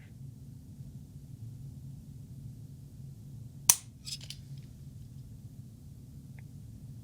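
A 1911 Service GI pistol dry-fires once: a single sharp, close metallic click as the trigger breaks, alone over a low room hum and followed by a couple of faint small clicks.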